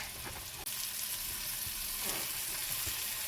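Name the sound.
floured beef pieces browning in a pan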